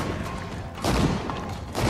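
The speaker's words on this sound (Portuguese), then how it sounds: "agora eu vi tiro da ponto 50 aí pegando agora" Bursts of .50 caliber gunfire in the State of Decay 2 video game, two heavy booming volleys a second apart over a constant background din.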